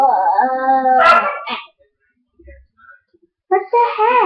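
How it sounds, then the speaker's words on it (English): A dog gives a couple of short howling barks, close and loud, separated by a quiet pause. "No barking in the morning."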